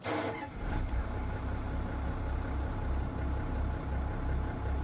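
A Valtra tractor engine idles nearby with a steady, low, continuous rumble that holds level for the whole stretch, with no voices over it.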